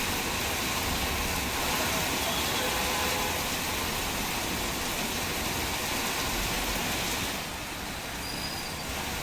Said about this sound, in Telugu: నగరంలోని పలు ప్రాంతాల్లో భారీ వర్షం పడుతోంది